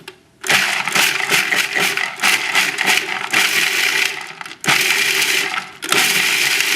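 Food processor pulses macadamia nuts and almonds in loud bursts, a rattling whir broken by two short pauses, chopping the nuts into a crust for shrimp, close and alone.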